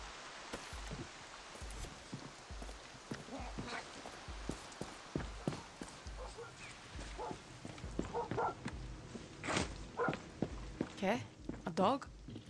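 A dog in Far Cry 6 gives a few short barks near the end, following scattered footsteps and thumps, with a voice speaking briefly.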